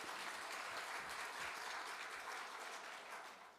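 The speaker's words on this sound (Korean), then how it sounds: "법포 받으신 분들에게 다시 한번 뜨거운 격려 박수 쳐주시죠" A temple congregation gives warm applause to members receiving dharma robes, a steady dense clapping from many hands that tapers slightly at the end.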